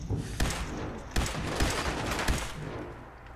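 Gunfire erupts in Fallout 4 as a rapid fusillade of close, loud shots. Several sharp bursts stand out over a dense, continuous barrage.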